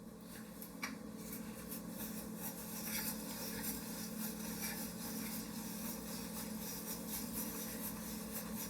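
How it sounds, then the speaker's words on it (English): A hand-crank rotary cheese grater shredding a lump of cheese, producing a continuous close rasping, rubbing scrape with a steady rhythm as the crank turns, without talk. "So I have my lump of cheese into the handy dandy cheese grater, and then this will push down on it as I turn the crank."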